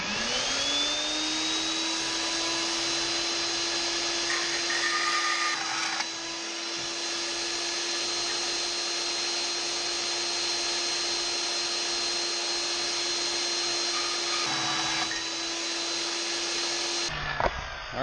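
A high-pitched power tool whines continuously while cutting pieces for a DIY trailer charging station, holding a steady tone with slight shifts in load, then winding down at the end with no talking.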